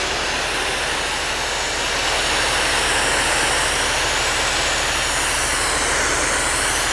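Jetwave Executive silent trailer high pressure cleaner spraying through a fan lance, a loud, steady hissing water blast over a low engine drone, continuous and close with no voices.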